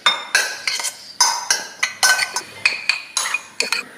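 Salt and lemon juice being mixed into ingredients in a bowl: a spoon clinks and scrapes against the bowl in about a dozen quick, close, rhythmic strokes with short gaps between them.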